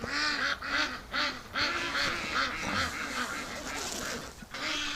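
Several ducks, including a Muscovy, quack repeatedly in rhythmic, raspy bursts nearby, a lively overlapping chorus with brief pauses between calls.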